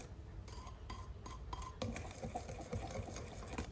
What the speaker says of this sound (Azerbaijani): və yaxşı qatışdırdım